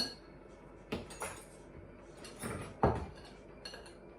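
Deviled egg filling mixed in a bowl with a spoon, a few scattered scrapes and clinks of metal against the dish, fairly quiet and close with pauses between strokes, no talking.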